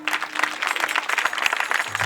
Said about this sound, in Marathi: खरं टाळी वाजवा